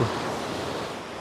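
Ocean waves wash and splash onto a beach at sunrise, a brief broad rushing surge heard up close with some wind against the microphone.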